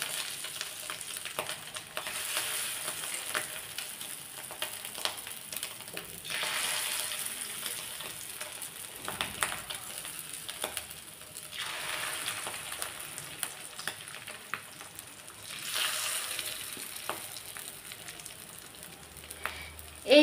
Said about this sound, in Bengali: এবার আমি এটাকে ভাজবো তেলে